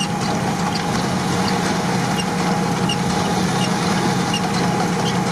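An old petrol Nissan Patrol with a 4.5-litre engine idles off-road, a steady close rumble with a faint whining hum running evenly throughout, no talking.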